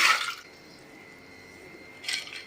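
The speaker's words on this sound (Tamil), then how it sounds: "இது மூழ்கிற அளவுக்கு தண்ணி சேர்த்துக்கலாம்." Water is poured over 100 grams of soaked green gram in a home kitchen, coming in two short splashy bursts, one at the start and one near the end, with a quiet pause between.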